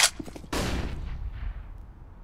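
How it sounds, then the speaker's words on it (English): A flashbang grenade goes off in a shooter video game: a sharp crack, then a louder burst that rings and decays over about a second and a half, with no voices. "Throwing flashbang."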